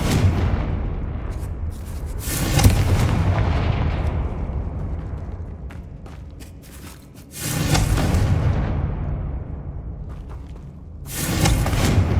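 The Confringo fire spell goes off in the video game Hogwarts Legacy, throwing out three heavy booming blasts with rumbling decay, each swelling loudly and then fading between bursts, with no talk.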